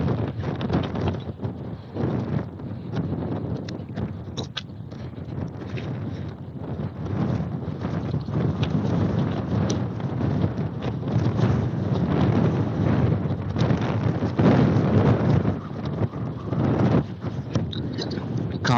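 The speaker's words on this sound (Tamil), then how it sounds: "காத்து நல்லா விசு விசுன்னு அடிக்குதுங்க." Strong wind blows steadily at a hilltop viewpoint on a day trip from Coimbatore to Attappadi, roaring and buffeting the microphone loudly and continuously with gusty surges throughout.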